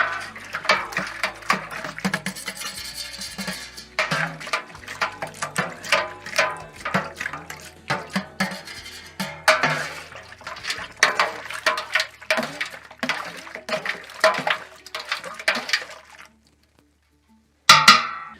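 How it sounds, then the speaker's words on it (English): A spoon stirs Mangrove Jack's Irish stout home-brew in a fermenter, producing a rhythmic series of sloshing swirls and plastic knocks that continue for most of the clip before stopping, followed by one last short clatter. "Give it a bit of a stir as well."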